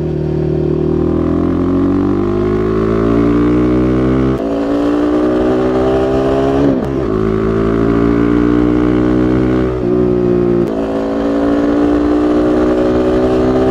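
Royal Enfield Guerrilla 450 motorcycle fitted with a slip-on exhaust silencer, engine held at a steady loud rev with blips and dips, close and continuous, with no talking over it.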